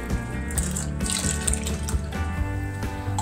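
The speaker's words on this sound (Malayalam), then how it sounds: "ആവശ്യത്തിന് വെള്ളവും കൂടി ഒഴിച്ചു കൊടുക്കാം" Water runs and splashes steadily into a cooking pot of lentils in a home kitchen, a continuous pouring flow with some clinking, alone and moderately loud.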